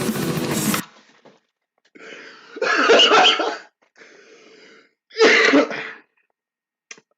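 Several harsh coughs and throat-clearing bursts, loud and close, separated by short pauses, with a final faint catch at the end.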